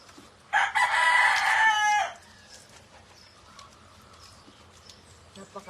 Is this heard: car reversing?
no